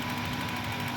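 A Toyota Revo engine idles with its air conditioning switched off, a steady, close mechanical drone with a faint rhythmic knock throughout, the engine having a noise fault and dropping idle when the aircon runs.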